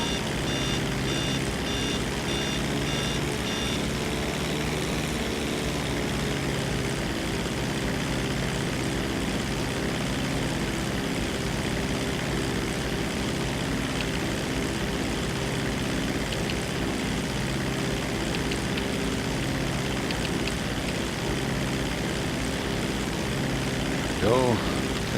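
Propeller plane engine in the GTA 5 Online video game, a continuous droning hum with a steady tonal whine that holds loud and unbroken throughout, with a brief beeping pattern early on.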